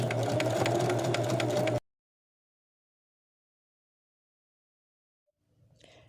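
Sewing machine stitching fabric for a scrunchie, running steadily for under two seconds with a dense mechanical whir, then stopping into silence before a faint brief rustle near the end.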